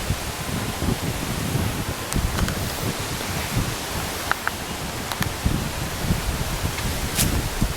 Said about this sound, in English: Oh, this wind. I'm going to get a tree drop on my head in a minute.